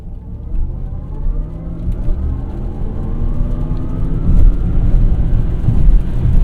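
A Chevy Blazer EV SS, an electric SUV, launches from a dig and pulls hard in one continuous rising whine and road roar, growing louder without any gear shift, with no voices.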